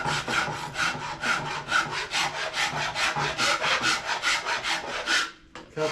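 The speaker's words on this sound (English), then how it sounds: "now I'm just gonna rasp it all down pretty smooth" A rasp files down a hickory bow in steady back-and-forth strokes, each rough wooden scrape close and distinct, about three per second in an even rhythm, with no talk over it.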